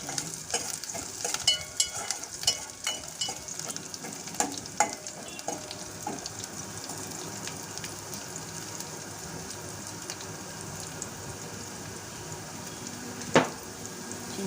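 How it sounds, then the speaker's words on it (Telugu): Dried red chillies fry for dal in a pan, a soft continuous sizzle broken by scattered crackles and pops and occasional stirring clinks, fairly quiet, with no voices. "రెండు ఎండుమిర్చి వేయాలి వేసి గోల్డెన్ కలర్ వచ్చే వరకు వేయించాలి"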